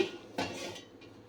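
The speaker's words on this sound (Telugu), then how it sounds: "ఇప్పుడు ప్యాన్ పెట్టుకొని" A metal cooking pan set down on a stove with a sharp clang, then a second clatter of metal a moment later, close and loud with no talking.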